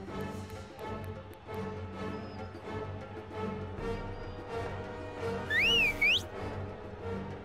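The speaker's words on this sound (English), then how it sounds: "And Brokenbauer just whistled to his team" A referee-style whistle is blown in an animated dog soccer match, a brief rising and falling double tweet standing out near the end over busy background music and ambient match noise.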